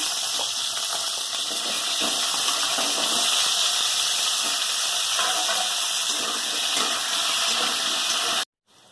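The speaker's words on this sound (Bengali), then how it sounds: "তাতে আর একটু তেল দিয়ে দিচ্ছি আলুটা ভাজার জন্য" Potatoes fry in oil in a wok, giving a steady, loud, even sizzle that runs without a break for several seconds before cutting off abruptly near the end.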